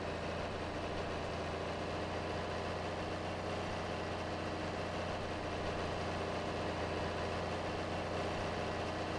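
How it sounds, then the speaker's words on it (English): John Deere 4020 tractor in Farming Simulator pulling a 6-row planter uphill, its engine a steady, even low drone running throughout with no speech. "Running a nice John Deere 4020 here, 6-row planter."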